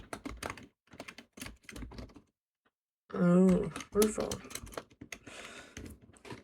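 Computer keyboard keys clatter in quick bursts with pauses, close to the microphone, while someone talks briefly over the typing.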